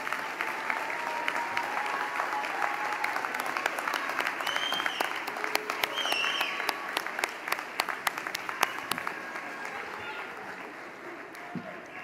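Sustained audience applause at a SUNY Niagara college commencement, a steady dense crowd clapping that swells slightly midway and carries on for the whole stretch with scattered cheers, fading toward the end.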